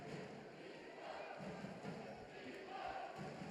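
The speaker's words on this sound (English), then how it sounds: "Crowd in attendance here. All giving it up for Dychko." A crowd at an AIBA World Boxing Championships bout between Majidov and Dychko cheers for Dychko. The cheering is a steady distant roar under close commentary.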